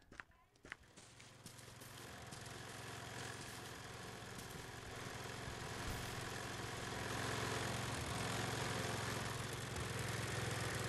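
A lawn mower engine in the video game Hello Neighbor drones steadily and grows slightly louder. The broadband hum continues without a break for the whole stretch.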